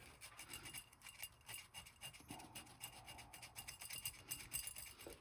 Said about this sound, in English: I'm just going to sand this down now where my little blob was.